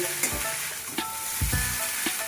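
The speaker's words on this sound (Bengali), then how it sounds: "চাউটাও ভাজা হয়ে গিয়েছে" Chowmein noodles with chopped egg fry in a hot pan with a constant close sizzle. Four or five dull spatula scrapes and knocks come at uneven intervals.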